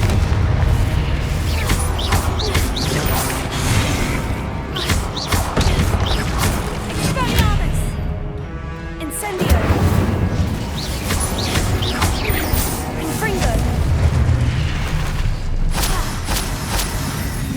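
Repeated booming blasts and crashes from Confringo spell explosions in Hogwarts Legacy, a dense run of impacts layered over continuous game music and effects, loud and near throughout.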